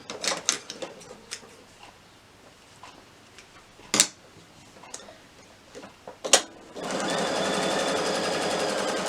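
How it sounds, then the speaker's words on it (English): A sewing machine stitches down the edge of a small batik fabric wallet, starting with a few short bursts and clicks, then running in a steady continuous buzz for the last couple of seconds, close and clear with no talking. "Stitch all the way down."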